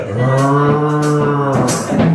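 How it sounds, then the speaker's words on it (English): A large cow moos loudly and close by in the dark, with two drawn-out lowing calls in quick succession. "there's a big cow behind me in the dark"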